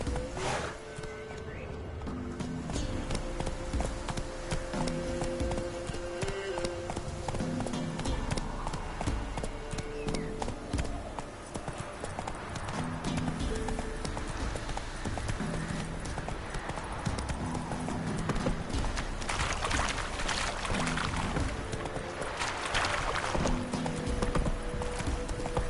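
Roach, a horse in The Witcher video game, trots with steady clip-clopping hooves throughout, loud and continuous over game music and ambience, with occasional whinnies and a voice speaking now and then.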